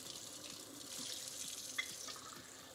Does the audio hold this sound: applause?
no